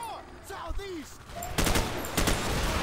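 Gunfire erupts in Call of Duty: Modern Warfare, with two dense bursts of rapid automatic shots close and loud after a few brief voice-like sounds from the match.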